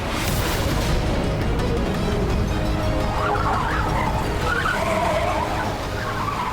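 A car closes in and skids, with a loud, continuous roar of engine and tyre noise and a screeching, squealing smear that rises toward the end.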